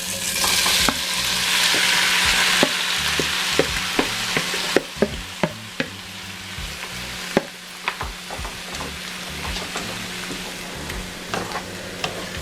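Shrimp sizzling in hot extra virgin olive oil in a skillet, a steady frying hiss with sharp crackles and pops scattered throughout, close and fairly loud, no talking.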